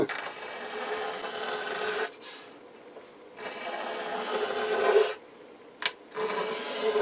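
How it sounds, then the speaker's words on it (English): A steel blade scrapes lacquer off a wooden radio cabinet, an RCA Radiola 60, in long rasping strokes separated by short pauses, close and fairly quiet. "You do not want to scratch the wood with a blade like this while you're applying a lot of pressure."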